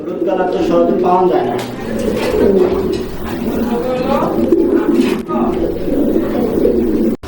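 Large Lahori Shoking fancy pigeons coo in repeated throaty, rolling calls at a seller's, close by and fairly loud, with some voices mixed in.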